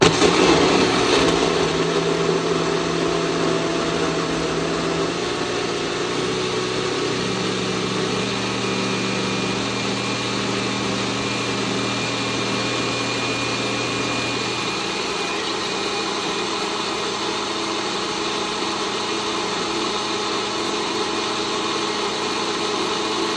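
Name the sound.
TopZee EasyGo blender running, mixing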